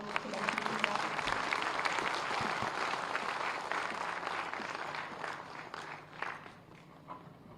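A crowd at a public 'Save Culture-Save India' mission event applauds as the Chief Minister is welcomed, sustained dense clapping with scattered shuffling, close and loud, easing slightly toward the end.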